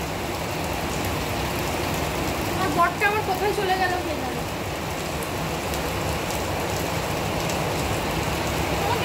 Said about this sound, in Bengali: প্রচন্ড জোরে বৃষ্টি আসছে